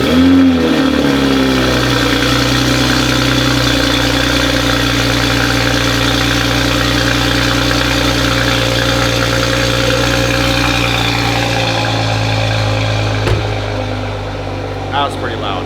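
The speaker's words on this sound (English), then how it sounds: "So it's gonna be the first startup with the downpipe." A Toyota Supra with a catless downpipe cranks and fires up loudly, then settles into a deep, steady rumbling idle that holds throughout, with a brief blip near the end.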